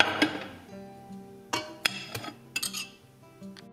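Cake batter with butter and vanilla paste is beaten in a mixing bowl for a plum sheet cake with almonds, giving a steady low hum broken by several sharp clinks against the bowl.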